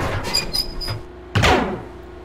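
In the Max Payne video game a door squeaks and slides open in short bursts, then slams with one loud, close thud that rings briefly and fades, with no talk.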